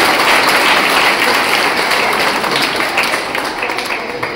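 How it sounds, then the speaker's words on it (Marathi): An audience at a school gathering applauds students, a dense, loud wash of many hands clapping together that holds steady and then slightly thins toward the end. "सर्वांनी यांच्यासाठी एकच जोरदार टाळ्या वाजवायच्या."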